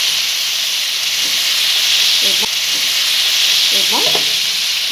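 Potatoes and onions fry in hot oil for a fish dopyaja, giving a loud, steady, close sizzle and hiss throughout, with a couple of faint scrapes beneath.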